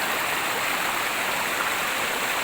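Creek water flows steadily in a bamboo garden, a constant close rushing and bubbling wash with no voices.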